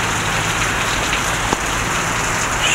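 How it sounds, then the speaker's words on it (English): Heavy rain pours steadily during a thunderstorm, a dense, continuous hiss of drops hitting surfaces close by, with no voices. "This is a lot of freaking rain."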